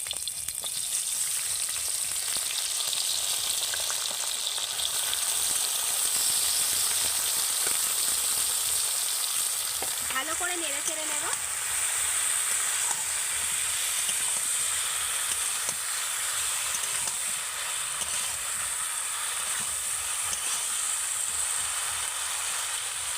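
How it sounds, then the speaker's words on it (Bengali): Marinated okra sizzles in hot oil in a wok, a loud, continuous frying hiss that holds evenly throughout, with a brief spatter of sharper crackles midway. "তেল গরম হয়ে গেছে এবার আমি ম্যারিনেট করা ঢ্যাঁড়সগুলো এইভাবে তেলের মধ্যে দিয়ে দেবো"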